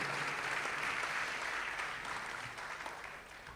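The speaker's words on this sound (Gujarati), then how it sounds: "એકવાર ખૂબ તાળીઓના ગડગડાટ સાથે એમનું સ્વાગત કરીએ." An audience breaks into sustained applause to welcome a guest at a public event, a dense, steady wash of clapping hands that gradually thins and fades toward the end.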